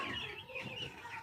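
Six-day-old broiler chicks in a poultry shed give a constant, faint chorus of high peeping and clucking with no pauses.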